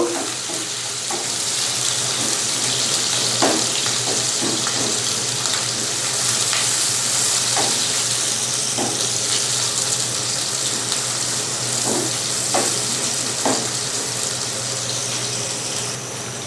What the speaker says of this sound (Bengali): পেঁয়াজটাকে আমি প্রথমে ভেজে নেব।